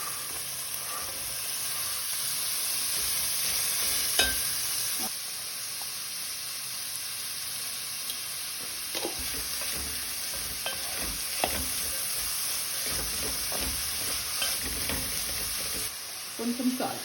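Onions and green chillies frying in a pan for egg curry, a steady sizzle with occasional stirring scrapes and clicks throughout, no talking over it.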